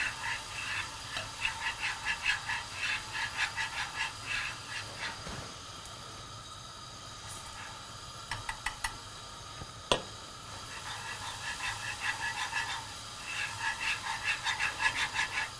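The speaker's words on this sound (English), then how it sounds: "I'll add some flour. And I'll just use a whisk and whisk this." A whisk beats flour into a hot oil and butter ghee mixture with quick, regular scraping ticks in repeated bursts, pausing briefly in the middle before the steady rhythm resumes.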